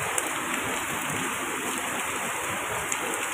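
Heavy rain pouring steadily, forming a dense, even wash of noise with no breaks. A constant high tone sits above it and a couple of faint tick sounds are audible, with no voices.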